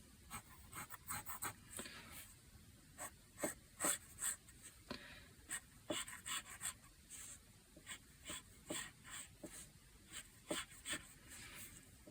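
A pen draws quick lines on paper to connect dots for a Celtic knot, making faint, close scratching strokes in short repeated bursts with brief pauses between them.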